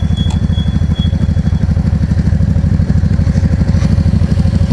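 Yamaha V Star 650 motorcycle engine running while riding, a steady low rumbling drone with dense rhythmic pulsing throughout, loud and close, with no talking.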